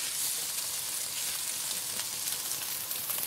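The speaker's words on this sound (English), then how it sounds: "and stir fry it now till it gets nice and warm" Noodles stir-frying with squid, prawns and fish cake in a hot pan, a steady bright sizzle and crackle with no talk.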